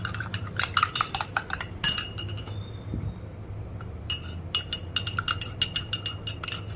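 A spoon clinks rapidly against a glass or bowl while custard powder is stirred into a little cold milk, coming in quick bursts with a short pause in the middle.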